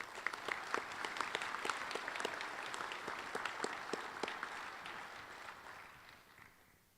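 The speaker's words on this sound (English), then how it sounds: "let's give a round of applause to all of our special guests" Audience applause for the special guests at the KIOGA breakfast speakers event, a steady wash of many clapping hands in a room that holds for several seconds and then fades out toward the end, with no talk.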